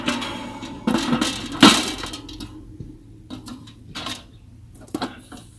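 A metal braai pan clanks and rattles as it is fitted over a portable BBQ, giving a burst of ringing metallic knocks followed by a few lighter, scattered taps.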